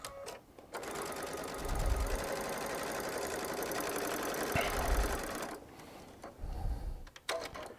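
A Baby Lock serger runs fast and steady, stitching and cutting fabric as it runs off into a long tail, with a brief pause and restart near the end.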